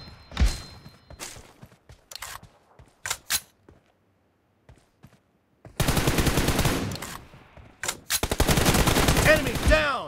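Video game gunfire from BGMI team deathmatch: scattered single shots early on, then long, loud bursts of rapid automatic fire in the second half.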